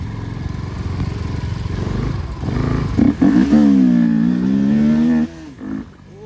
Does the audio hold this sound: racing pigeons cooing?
no